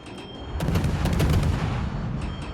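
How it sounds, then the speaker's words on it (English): Naval shells from a French cruiser Colbert in World of Warships, a booming broadside salvo followed by a dense rumble of repeated gunfire and impacts, loud and sustained for about two seconds. "as the shells land short."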